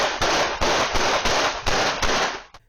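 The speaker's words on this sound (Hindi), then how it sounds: "अचानक गोली चलने की आवाज सुनाई देती है" Gunshot sound effect from a 1997 shooting scene in Juhu, Mumbai: a rapid burst of about six loud, evenly spaced cracks, followed by one short final snap, with no voices.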